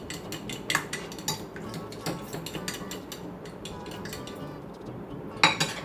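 An egg-and-milk French toast batter with a pinch of salt is mixed in a bowl. A utensil clinks rapidly and repeatedly against the dish at close range, with a few sharper knocks and no talking.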